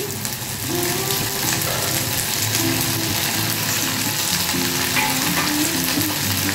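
Potatoes sizzling in hot oil in a pan, a steady loud frying hiss with occasional scraping and stirring clatter, no talking.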